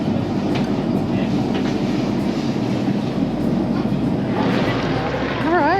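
Steady loud rumble of a train in motion with rhythmic rail clatter, arriving at Amsterdam Central, a high squeal of wheels or brakes rising near the end.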